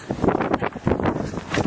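Strong gusts of wind buffet the microphone outdoors in heavy, uneven rushes, loud and close, with no voices.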